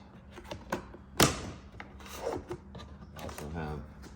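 A small plastic pry tool pops clips on a 2000 Nissan Titan XD passenger door panel: one sharp crack of plastic releasing, then scattered rubs and clicks, with someone talking faintly in the background.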